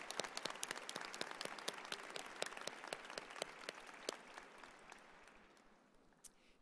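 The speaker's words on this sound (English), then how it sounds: "Would all of the staff please rise, and a round of applause." Applause for nursing staff at a spring college convocation: a large crowd claps in a dense patter with sharp individual claps up front, then gradually fades away.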